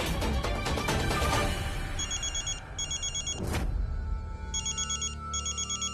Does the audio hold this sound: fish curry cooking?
no